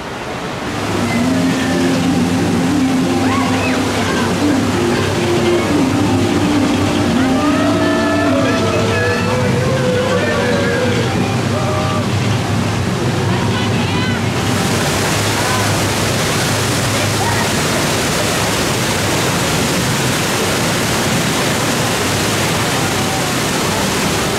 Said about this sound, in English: Really good rapids ride.